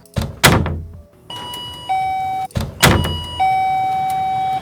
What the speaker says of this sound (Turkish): birisi kapıyı açtı ve kapattı